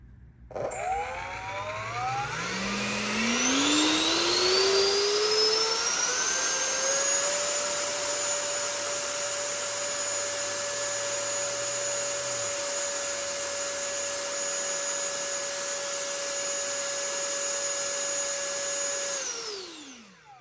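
An electric ducted fan fitted with a thrust tube on a static thrust test spins up with a rising whine, holds a loud steady high-pitched roar for about fifteen seconds, then winds down at the end.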